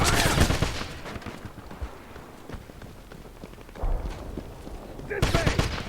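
Repeated gunshots and bursts of automatic fire in the World War II shooter Wolfenstein, with sharp loud volleys at the start and end and a busier stretch of shots and shouted voices between them.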